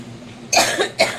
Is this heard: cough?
yes